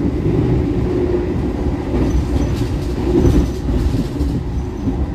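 Passing train on an Indonesian railway line, heard from aboard the KA Argo Bromo Anggrek: a loud, steady rumble with rattling rail clatter and a faint high wheel squeal, lasting throughout with no talking.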